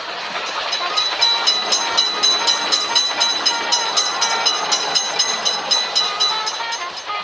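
A cartoon train from a railroad crossing video game rolls past, loud and close, with a steady, rhythmic clickety-clack of wheels that repeats throughout.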